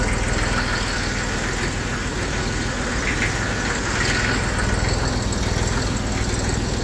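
A small tractor engine runs slowly in first gear, a loud, steady low rumble with continuous mechanical chug and no breaks, heard close and alone.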